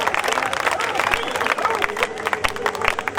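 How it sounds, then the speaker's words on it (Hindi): A crowd at an awards show in Haryana applauds loudly, with sharp, uneven hand claps standing out over a busy background of crowd noise and chatter. "जोरदार तालियों के साथ स्वागत कीजिए इनका"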